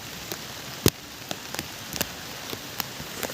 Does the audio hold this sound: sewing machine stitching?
no